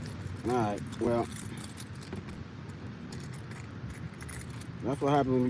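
A large bunch of keys jangles softly and steadily, close by, while someone talks over it in short bursts.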